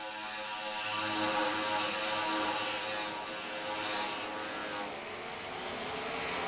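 Race cars in a WRLA NOS Energy Cup Series race come down the back straightaway toward a trackside camera, a steady, loud, broad engine roar that swells slightly and holds, with no voices.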